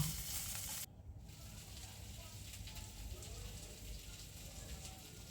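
Chilies and coriander leaves fry in oil with a faint, steady, even sizzle like light rain, continuing throughout at low volume.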